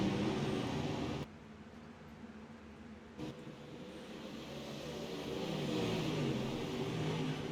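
UMP dirt track race cars accelerating down the front stretch at a West Coast Dirt Tour event. Engines roar at a distance, with a sudden drop and then a gradual swell as the pack pulls away.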